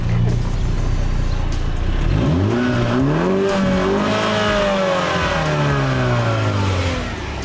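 A 2016 Mini Cooper S engine revs hard and loud close by, its pitch sweeping up and down through several climbs and drops before easing off at the end.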